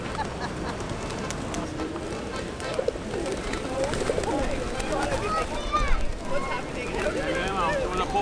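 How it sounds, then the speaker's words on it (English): Pigeons coo and flutter steadily around Pigeon Square in Sarajevo, a busy outdoor plaza with a fountain, mixed into a dense crowd murmur with people talking nearby. "you can tell by all the people around and all the pigeons"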